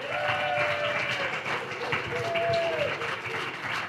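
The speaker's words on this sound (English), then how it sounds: "Give him a big hand." A live audience at a stage hypnosis show in Las Vegas applauds with steady clapping and a few whoops from the crowd, loud and continuous throughout.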